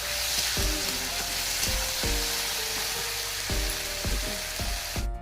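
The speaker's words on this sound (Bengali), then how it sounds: "রসুন দিয়ে দিয়েছে তেল দিয়ে।" Garlic sizzling in hot oil in a home kitchen pan while chicken curry is being made, a steady bright crackle with repeated stirring knocks at irregular intervals, close and continuous without talk.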